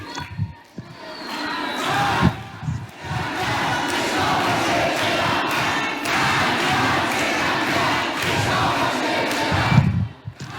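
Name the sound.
crowd chanting slogans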